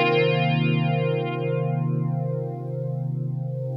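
Electric guitar through an Electric Mistress flanger pedal, a held chord whose tone sweeps slowly up and down in a jet-like whoosh, steady and fairly loud.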